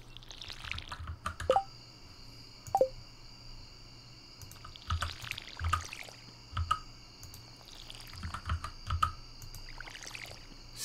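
Watering crops in the Stardew Valley farming video game: quiet, brief splashy pour-and-drip effects repeated several times in irregular bursts, alone over faint background music with no talk.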